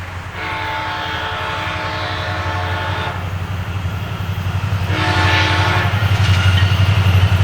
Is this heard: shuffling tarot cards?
no